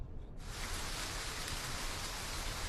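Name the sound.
rain falling, cartoon sound effect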